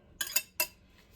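A utensil clinks against a bowl as beaten egg is worked into a meatloaf mixture, with a pair of quick metallic scrapes close up followed by a single sharper knock, no voices.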